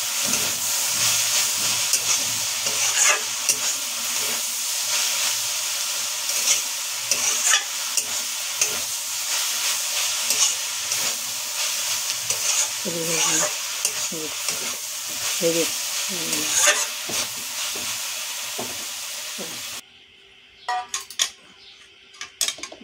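Saag greens frying and being stirred in a pan, a continuous hiss and sizzle with scraping stir strokes over it, cut short near the end by a few clinks and quieter moments.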